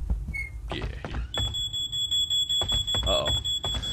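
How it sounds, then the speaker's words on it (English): A fire alarm in the horror video game Paranormal rings with a steady, piercing electronic tone that holds continuously for several seconds, loud over game noises, while someone talks over it. "that's not good. That's a fire alarm,"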